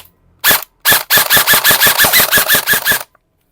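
An HFC airsoft AEG rifle, shooting about 500 fps out of the box, fires two single shots and then a rapid full-auto string of roughly a dozen loud, sharp cracks before stopping. No one talks.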